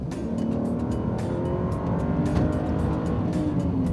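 A BMW 135i engine revs hard and close, a loud throaty growl rising in pitch, broken by sharp pops and bursts, with no voices.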